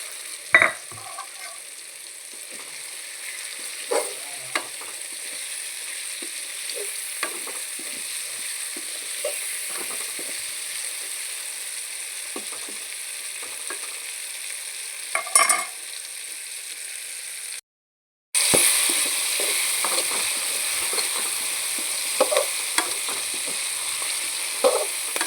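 Onions, tomatoes and raw peas frying in a pan: a steady close sizzle runs throughout, with occasional stirring clacks and pops, a brief silent break, then the sizzle resumes just as loud.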